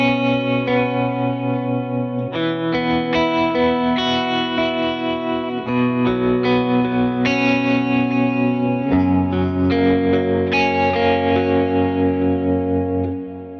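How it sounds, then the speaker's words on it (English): An electric guitar plays sustained chords with a pulsing tremolo effect, clean and steady, moving through a few chord changes before fading out. "So here's, like, that tremolo sound."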